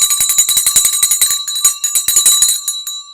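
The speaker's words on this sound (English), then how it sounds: "And the bell has tolled." Stock market closing bell ringing at the end of the trading day, a loud, rapid metallic clanging repeated steadily for about three seconds with a brief gap midway, heard alone.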